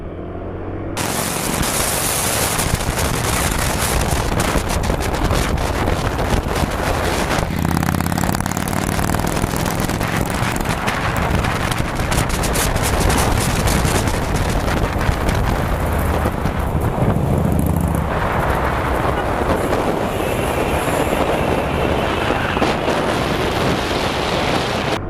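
A Harley-Davidson motorcycle rides through a corner, its engine droning loud and steady under heavy wind rush that buffets the microphone throughout, with no voices.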